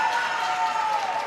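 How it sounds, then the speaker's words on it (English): A football crowd at a women's league match between Arsenal and Aston Villa applauds and cheers for a player, a steady distant wash of clapping and crowd roar without a break. "Crowd getting behind her."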